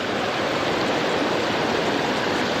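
Small waterfall on a Tennessee creek, a steady, loud, close rushing roar of falling water with no breaks.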